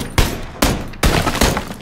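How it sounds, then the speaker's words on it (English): Rapid bursts of gunfire in the battle royale game PUBG, five loud sharp reports spaced roughly evenly, each trailing into a brief echoing decay, no voices over them. "Oh, I'm shooting the fucking floor."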